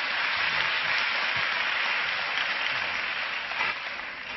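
A church congregation at Onnuri Church applauds to welcome a pastor, producing a dense, even wash of many hands clapping at a constant level throughout.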